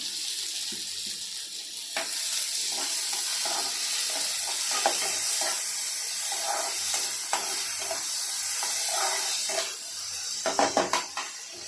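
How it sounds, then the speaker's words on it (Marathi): Continuous sizzle of onions and tomatoes frying in a pan, with occasional spatula scrapes and a burst of clattering near the end. "कांदा चांगला लाल होईपर्यंत भाजायचा आहे"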